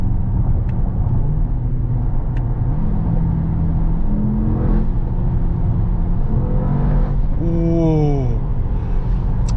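A 2023 Mercedes-AMG GT 63 S E-Performance V8 engine revs with a deep rumble, pitch sweeping upward in a couple of climbs, steady and fairly loud throughout.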